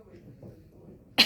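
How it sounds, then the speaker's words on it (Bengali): One short, sharp cough from a person with a cold bursts out at the very end, after a second of quiet room tone. "কত ঠান্ডা কাশি"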